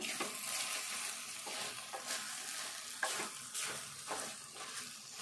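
Ridge gourd curry with tomato being stirred in a pan, a soft sizzle underneath as a spoon scrapes and turns the mixture in several separate strokes, close and fairly quiet.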